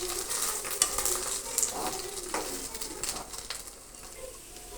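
Beaten eggs stirred and fried in a pan for onion egg bhurji, giving a steady soft sizzle with faint scraping stirs throughout, fairly quiet and close, with no talking.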